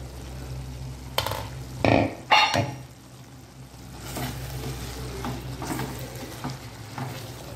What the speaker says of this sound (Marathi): परतून बघूया वाटाणा शिजलाय का बघूया.